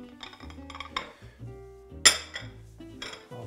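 A warm chocolate fondant turned out onto a plate, heard as soft knocks and clinks of dish against plate with one sharp clink near the middle; close, with music playing underneath and no speech.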